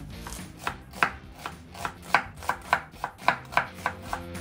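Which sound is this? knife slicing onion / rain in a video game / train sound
knife slicing onion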